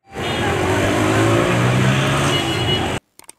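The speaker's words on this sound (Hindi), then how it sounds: "फिर जल्द ही बाहर की गुजरने वाली गाड़ियों ने याद दिलाया कि नहीं भाई आप कराची जैसे पुरशोर शहर में ही मौजूद हैं" Traffic passing outside a building in busy Karachi, a loud continuous vehicle roar held steady for about three seconds before cutting off abruptly, followed by a few faint clicks.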